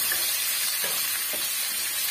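Two green chillies sauté in hot oil in a pan with onion and dal for a roadside-style chutney, a steady close sizzling hiss with soft stirring scrapes partway through.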